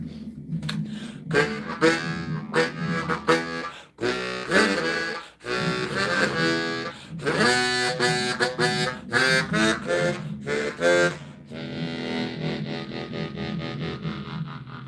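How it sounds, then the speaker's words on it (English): An echo harmonica with two reeds per note, a pre-World War I German-made instrument, plays a lively tune of bright, wavering chords in choppy phrases with brief breaks, loud and close. "It's an echo harmonica."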